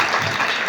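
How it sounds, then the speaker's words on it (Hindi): Brief burst of loud, dense clapping from a school farewell audience applauding a teacher, close and continuous for under a second. "सो जोरदार तालियां बजा दो सर के लिए भी"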